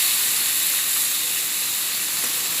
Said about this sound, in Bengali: এখন উচ্ছেটা ভাজা ভাজা হচ্ছে